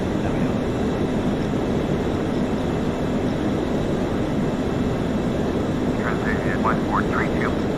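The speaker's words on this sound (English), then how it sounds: "We're just flying this Lufthansa A320" Lufthansa Airbus A320 in flight in the FSX flight simulator, a steady loud engine and cockpit drone throughout, with brief higher chirps near the end.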